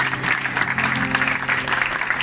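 A church congregation applauds the Lord during a seminar service, with steady sustained clapping filling the room, alone.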